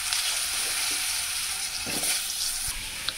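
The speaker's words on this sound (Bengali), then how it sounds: "তো দিয়ে দেবো আলু পটলগুলি এখন একসাথে ভেজে নিব।" Potatoes and pointed gourd frying together with turmeric and salt in a kadai, giving a steady close sizzle throughout with a few brief stirring clatters.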